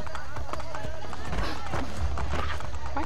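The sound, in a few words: horse galloping in Assassin's Creed Brotherhood video game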